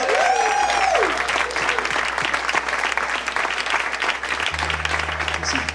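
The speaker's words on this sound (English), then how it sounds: "please give a big hand for OneCloud!" Audience applause for the first team at a startup weekend event, a dense, loud burst of clapping that carries on steadily, with a brief voice heard at the start.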